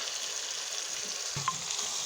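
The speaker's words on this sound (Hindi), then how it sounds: "और इस तरह अच्छी तरह से इसे भून लेंगे हम" Mixed vegetables for a Pakistani-style dish sizzle in a pan as a steady, broad hiss, with one brief clink partway through and no voices.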